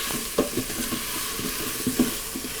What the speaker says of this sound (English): we're just going to saute those off for about 1 minute